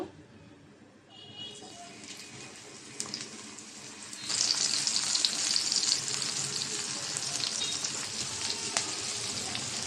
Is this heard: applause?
no